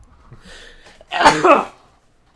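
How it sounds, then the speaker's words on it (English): A single sharp sneeze bursts out after a moment of faint background noise, loud and close, with a quick double-peaked burst. "After I sneeze"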